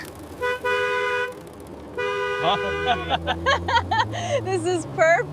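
An old automobile horn honks in a series of loud toots, first two sustained blasts and then a quicker run of wavering honks over the low running engine.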